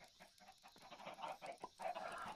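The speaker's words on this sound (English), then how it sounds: "and a chicken lays an egg" A chicken in Minecraft 1.19 gives a run of short, repeated clucks in quick, uneven bursts, steady and moderately loud with no talking.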